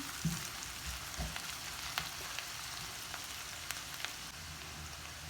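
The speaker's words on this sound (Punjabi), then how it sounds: "ਦੋ ਮਿੰਟ ਅਸੀਂ ਲਸਣ ਅਦਰਕ ਨੂੰ ਵੀ ਪਿਆਜ਼ਾਂ ਦੇ ਨਾਲ ਹੀ ਭੁੰਨ ਲਿਆ ਹੈ" Chopped onions with garlic and ginger fry in a pan, giving a constant quiet sizzle with a few soft knocks and scattered crackles near the start, no talking.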